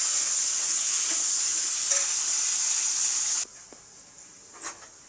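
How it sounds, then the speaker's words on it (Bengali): Potatoes browning in oil for a Bengali chicken kosha, a steady bright hiss of frying that cuts off sharply partway through, leaving a quieter pan with a few faint clinks. "আলুটা একটু লাল লাল করে ভেজে নিচ্ছি"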